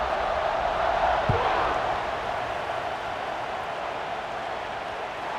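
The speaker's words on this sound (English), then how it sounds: "these fans, they get something to cheer about with that first offensive possession" A simulated stadium crowd in the College Football 26 video game, during an Alabama vs Florida State matchup, keeps up a steady, loud roar of cheering without a break.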